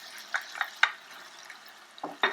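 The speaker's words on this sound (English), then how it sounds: "Again, stir them around so they're nicely coated." Sugar peas and green onions being stirred in hot oil in a ground beef stir-fry, a few sharp clacks and scrapes of the spoon against the pan over a faint hiss, close and sparse.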